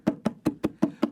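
Hand drum struck in a quick heel-heel-toe-toe pattern at double time, six crisp evenly spaced strokes in about a second, close and clear with no talk.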